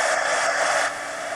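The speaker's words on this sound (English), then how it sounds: "Now I'm going to get the heat gun and dry all these elements real quick." A heat gun blowing to dry paint on mixed media art journal elements, a steady loud hiss close by that drops slightly in level near the end.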